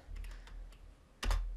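Numbers typed on a computer keyboard, a quick run of soft close keystrokes followed by a louder cluster of two or three key presses near the end, no speech.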